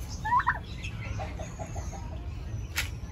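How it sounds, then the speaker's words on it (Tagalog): A turkey gobbles once, fairly close in a backyard, followed by softer bird calls over a low rumbling outdoor background with no talking. "Ayun ang pabo, guys."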